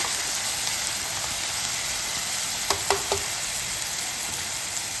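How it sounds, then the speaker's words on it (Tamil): Steady, loud sizzling of onion and tomato with ginger and garlic frying in a pan, with a couple of brief clinks of a spoon partway through. "நல்லா வதங்கட்டும்."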